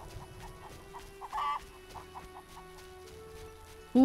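Chickens cluck in a farmyard scene from The Witcher video game, a few short soft clucks scattered over a steady low hum, with one louder squawk near the end.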